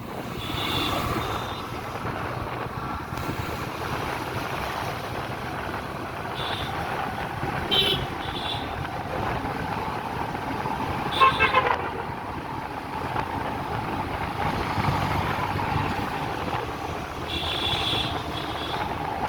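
A vehicle driving in full gear, apparently on a road route near Nawabganj in Bangladesh, gives a steady, loud engine and road rumble that holds for the whole stretch, with a few brief horn toots and rattles breaking through.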